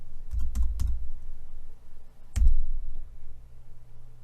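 A handful of keystrokes on a computer keyboard sound close and crisp: a quick cluster of three taps, a pause, then one harder press, all over a low steady hum.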